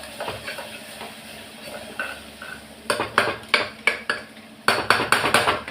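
Chicken 65 masala powder stirred into a pan, with a metal spoon scraping and clinking against the pan in a quick, repeated rhythm over a soft sizzle, close and fairly loud, with no talking.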